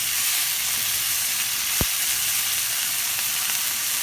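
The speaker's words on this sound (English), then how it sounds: "at this point, I'm turning my fire down to a low simmer" Food simmers in a pan over low heat with a steady, soft sizzle and hiss that holds evenly throughout, broken once by a brief sharp click.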